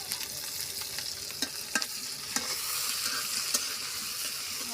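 Onions fry in a pan with a steady sizzle while a spoon or spatula stirs them, adding several sharp scraping clicks against the metal; close and fairly quiet, with no talking.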